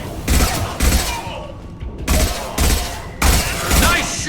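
Gunfire bursts from the video game Mass Effect 2, several loud, rapid volleys separated by short pauses, with combat noise and some speech mixed in.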